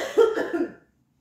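A single short cough from a woman preacher during a sermon, a quick burst with a throat-rasp tail, close and fairly loud, then silence.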